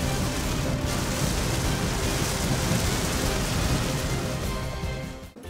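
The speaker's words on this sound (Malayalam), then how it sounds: "ഇതാണ് സാധനം കണ്ടോ. മഴ മഴ" Steady heavy rain pours down in a dense, unbroken hiss with a low rumble underneath, loud and continuous before fading slightly at the very end.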